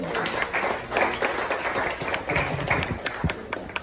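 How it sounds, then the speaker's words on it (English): Audience applause at a press launch and contract signing for the Saint Teresa of Calcutta Award, honoring the AY Foundation: a dense, steady round of clapping from a room full of people, close and continuous with scattered sharper claps. "let's give the AY Foundation with a round of applause"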